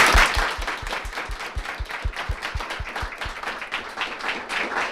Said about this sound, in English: I want to give them a round of applause for a fantastic